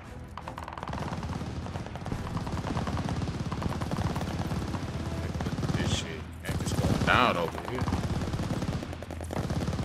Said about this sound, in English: All that gunfire, I ain't gonna get nobody down